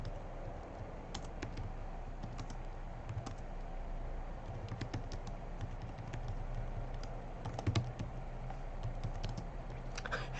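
Computer keyboard typing clicks along in quick irregular runs at a lecture desk, close and soft over a low steady room hum, with no talk.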